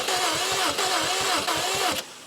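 A Subaru STI drag car's engine cranks over in a loud, rhythmic starter churn with regular pulses, continuing steadily for about two seconds before easing off, close and dominant with no talking.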